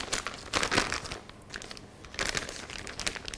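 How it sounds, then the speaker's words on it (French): A plastic piping bag is turned over and handled while a Bourdaloue tart is assembled, giving close crinkling and rustling in uneven bursts with a quieter moment in the middle. "Donc là nous allons retourner la poche."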